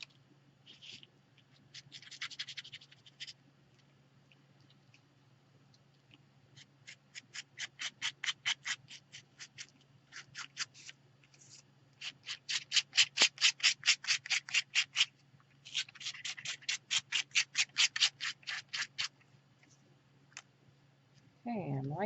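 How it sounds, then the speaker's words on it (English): A tool scrapes textured paste over a surface in repeated rasping strokes, bursts of rapid scratchy passes separated by short pauses, close and fairly loud over a low steady hum. "Just want to scrape it over those bits that have the texture."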